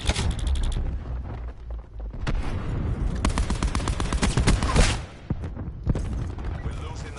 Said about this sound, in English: Her ability is a grenade that splits into smaller grenades.